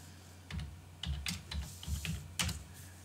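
Quick bursts of keystrokes on a computer keyboard while entering a password on a CentOS 7 machine, close and clicky in short irregular clusters with pauses between, no talk.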